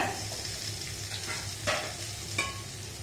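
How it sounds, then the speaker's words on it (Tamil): Boiled potatoes being mixed into a frying evening snack mixture in a pan, with a steady low sizzle and a few soft scraping stirs, close and moderately quiet. "சேர்த்து நல்லா மிக்ஸ் பண்ணிக்கலாம்."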